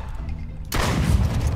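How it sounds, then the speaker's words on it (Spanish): A single gunshot in the video game Duck Season bursts in sharply partway through after a low quiet hum, followed by a loud, broad noisy tail that lingers to the end. "Toma, otro disparo que le he dado a él"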